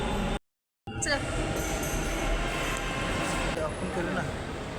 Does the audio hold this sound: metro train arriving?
yes